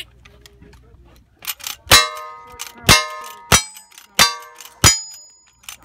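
Gunshots ring off steel targets at a cowboy action shooting match in Tombstone, Arizona: six sharp metallic clangs in a loose, even rhythm, each with a brief bright ring after the hit.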